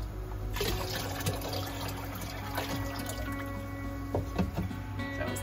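Water pours and trickles steadily as the collection cup of an Octo protein skimmer on a reef tank is emptied, a continuous close splashing flow with a few louder gurgles and drips.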